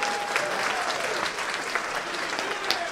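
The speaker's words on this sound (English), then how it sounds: "Give a round of applause." A comedy club audience at Mark Ridley's Comedy Castle applauds energetically, a thick continuous wash of clapping with a few sharper claps and a faint whistle near the start.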